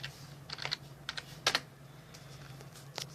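Several quick keystrokes on a computer keyboard as a password is typed, sparse clicks clustered in short bursts over a low steady hum, close and moderately loud with no voices.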